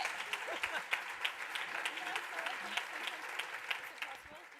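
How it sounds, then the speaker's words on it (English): A crowd at a summit event applauds steadily, with sharp individual claps standing out from a dense wash, fairly distant and quiet, and faint voices mixed in. "a big round of applause for these amazing women"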